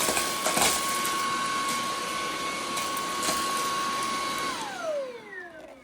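A cordless 45 kPa stick vacuum cleaner with a 1.5 L dust bin runs with a loud, steady, high-pitched motor whine, then spins down with a falling pitch near the end. No one speaks.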